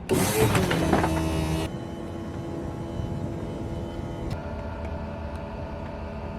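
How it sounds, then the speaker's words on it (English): Slide-out rooms on a 2021 Forest River Vibe 34BH travel trailer extending under house-battery power, a loud motor whir and rumble for the first second and a half, then a steadier lower drone continuing with a faint click near the end. "I'll just open up the slide outs for you, just get some more space in here"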